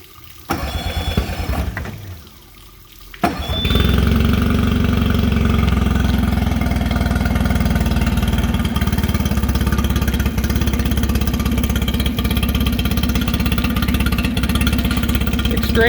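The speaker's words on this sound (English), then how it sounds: "This is a Tohatsu 20 horsepower fuel injected engine." A Tohatsu 20 hp fuel-injected outboard motor starts after a short crank and then idles steadily and evenly, a low continuous hum close by.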